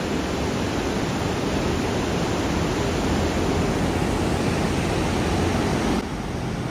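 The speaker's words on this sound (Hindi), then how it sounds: "इतनी ज़बरदस्त आवाज़ और ज़बरदस्त करंट है, नदी का फ्लो है जो, क्या खतरनाक फ्लो है।" Loud, steady roar of a fast, powerful river current rushing past in Manali, a dense continuous wash of water noise filling the whole stretch with no voices.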